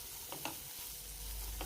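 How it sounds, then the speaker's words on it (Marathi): Black chickpeas fry and crackle in a pan, a quiet, close sizzle with a few soft pops and stirring scrapes, no talking. "चणे फुटेपर्यंत आपण व्यवस्थित फ्राय करून घेतलेले आहेत"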